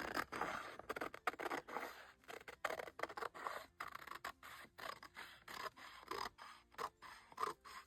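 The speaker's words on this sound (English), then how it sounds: "go ahead and use those scissors on this one side" Scissors snip through a paper junk-journal page close by, a quick irregular series of sharp crisp cuts and rustles, quiet and alone.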